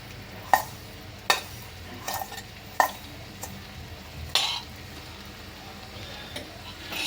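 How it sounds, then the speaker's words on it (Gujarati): Grated coconut being stirred into green turmeric in a pan over a low flame, with a soft sizzle under sharp, irregular clinks and scrapes of the spoon against the pan. "આ કોપરાના છીણને હું આવી રીતે હળદરમાં બરાબર મિક્સ કરી લઈશ"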